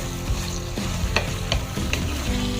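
Chicken liver for adobo hits a hot pan and sizzles loudly and continuously, with several sharp scraping stirs of a utensil against the pan and no voices.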